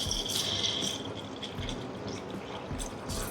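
Water is poured from a measuring cup into rice flour to make palappam batter, a soft, steady, continuous pour with faint splashing at low volume.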